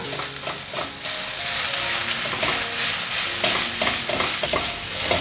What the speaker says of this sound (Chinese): 现在放入白萝卜丝和红萝卜丝， 快速翻炒。